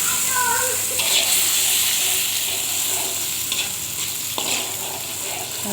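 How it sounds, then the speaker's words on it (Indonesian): Ground spice paste sizzles and crackles in hot oil, frying loud and close for a fish stir-fry in the Acehnese style, with a few scraping stirs of the pan over the constant hiss. "Masukkan bumbu ke dalam minyak panas. Jangan lupa aduk-aduk sampai merata."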